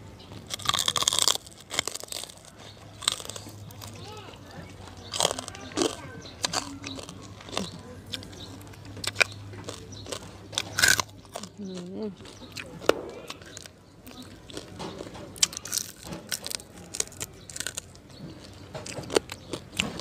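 Crisp crackling skin of a whole deep-fried roast suckling pig being bitten and chewed up close, with repeated sharp crunches and chewing noises, and someone speaking intermittently between bites.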